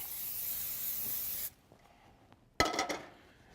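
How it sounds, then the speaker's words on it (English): Zero-fat pan coating sprayed onto a pan before searing skirt steak: a loud steady hiss lasting about a second and a half, then a quiet pause and a sharper short burst of spray. "spray it with a little of our pan coating"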